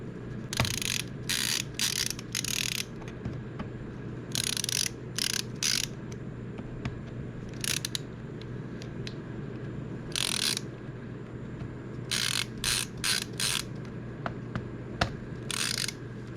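Small screws in a 2008 unibody MacBook are tightened with a screwdriver, giving short bursts of fine ratcheting clicks separated by quiet pauses in a calm indoor setting.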